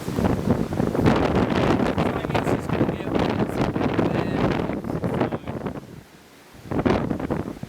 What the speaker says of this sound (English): I'm going up the Loch Ness today and it's quite windy.